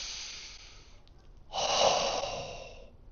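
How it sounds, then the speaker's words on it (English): A slow, deep breath during a meditation practice, a quiet inhale followed by a louder, longer airy exhale through the nose, close and alone without speech. "when I breathe in, I am breathing in"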